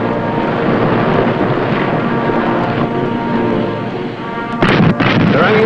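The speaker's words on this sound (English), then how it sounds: "Their ammunition's exploding." Heavy, rumbling booms roll on continuously as a ship's ammunition explodes, then a sharper burst of blasts erupts near the end, loud and close.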